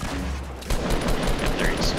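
Rapid gunfire in the Fortnite video game, a dense run of repeated loud shots with a brief pause before a second sustained volley, under occasional speech.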